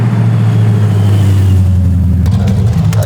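A junkyard Nissan Hardbody truck with a rough-sounding engine revs hard and close, a loud sustained low roar that wavers and then drops off near the end, with no talk over it.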